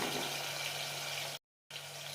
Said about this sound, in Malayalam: കഷ്ണങ്ങൾ വേവാനുള്ള വെള്ളം കൂടി ഒഴിക്കാം.